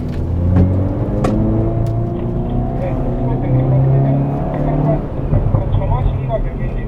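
A Hyundai Veloster N with an 8-speed DCT is driven hard on a race track, its engine droning loud and close with a steadily climbing pitch that resets at a shift near the end.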